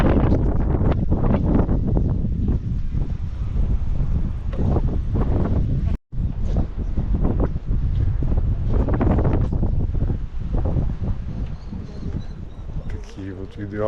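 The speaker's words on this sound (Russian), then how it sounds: "Ну сейчас ветрено разве что" Strong wind blows on the Algarve coast near Albufeira, buffeting the microphone with loud, continuous gusty roaring that briefly cuts out midway; voices seem faintly present beneath.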